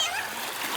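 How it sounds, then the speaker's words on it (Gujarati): A thrown stone splashes into water outdoors, a single short splash heard close over a steady background of flowing or stirred water. "ધામોએ પાણો નાખી દીધો છે"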